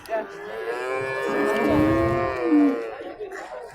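A cow lets out one long, drawn-out moo at a crowded cattle market in Tokmok. The call is near and loud and slowly rises and falls, with faint crowd murmur behind it.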